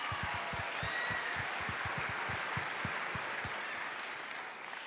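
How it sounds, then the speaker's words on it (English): An audience at a fashion show claps steadily and enthusiastically, a dense wash of applause that holds for several seconds before easing slightly at the end. "let's clap."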